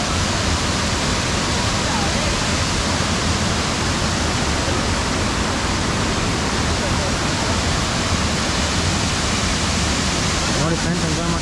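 A waterfall near Sakleshpur with water rushing hard, a dense, loud, continuous roar that fills the whole stretch without pause, heard up close.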